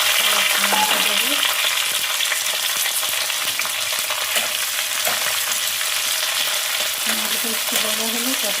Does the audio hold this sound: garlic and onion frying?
yes